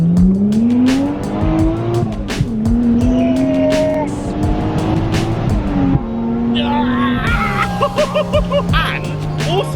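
Toyota-engined Ford Escort MK2 driving hard, its engine note climbing and dropping through gear changes with sharp exhaust pops and some tyre noise, loud and close, with voices talking over it.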